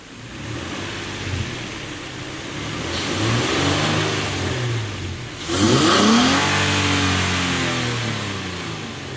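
A Nissan Xterra SUV engine fitted with a K&N cold air intake revs up twice, rising to a throaty roar and settling back, close by and loud, with a steady idle rumble between the pulls.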